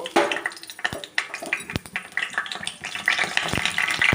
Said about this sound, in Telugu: ఆయిల్ వేడెక్కింది ఒక్కొక్కటిగా వేసుకున్నాము పచ్చనపప్పు ఆవాలు